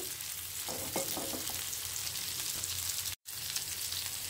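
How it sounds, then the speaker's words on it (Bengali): Onion frying in a pan alongside fish, a continuous close sizzle with a few brief stirring scrapes early on and a momentary cut near the end. "পেঁয়াজটিকে আমি হালকা একটু ভেজে নিচ্ছি"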